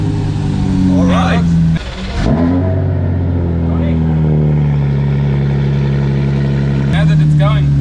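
A drift car engine, in neutral with no clutch pressed, starts and then revs and idles loudly up close, with rising surges and a brief dip, while someone talks over it.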